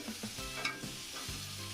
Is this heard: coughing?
no